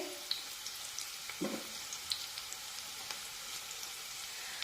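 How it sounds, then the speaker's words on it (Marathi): Quiet, even sizzle of wheat-flour dough balls frying in hot ghee over a medium flame, with a couple of faint clinks. "मध्यम आचेवर हे सर्व मुटके आपण तळून घेऊया"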